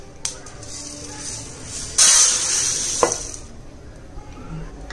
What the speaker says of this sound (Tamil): இப்போ நம்ம கேரள மட்டை அரிசி போட்டோம்னாப்பா நல்லா வறுத்தாச்சு